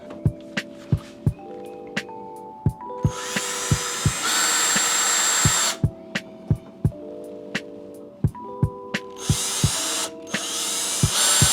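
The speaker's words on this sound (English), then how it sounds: "And we're going to drill our holes." A power drill with a 1/8-inch bit bores holes while fitting an anchor trolley, giving two long whirring bursts, each followed by a shorter one, with sharp clicks and taps in between.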